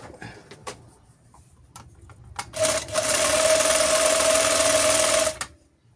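An FN10 overlock sewing machine with loose, unadjusted tensions stitches in a steady, loud mechanical whir for about three seconds, preceded by a few scattered clicks and handling knocks, then stops abruptly.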